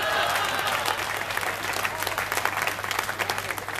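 Sustained applause from the crowd at a Hindi comedy show, dense continuous clapping from many people, close and fairly loud, with a faint steady hum under it.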